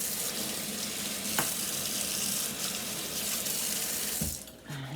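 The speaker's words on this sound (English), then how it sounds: "Let's rinse this off." Running water from a kitchen tap splashes steadily into a sink as baking soda is rinsed away, a continuous close hiss that cuts off briefly near the end with a small clunk.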